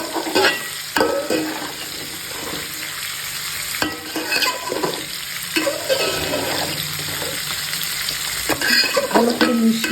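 Biryani-style pilaf in a pot with sugar added, slowly stirred over a loud continuous sizzle, with periodic scraping strokes of the spoon against the pot, close and without talk.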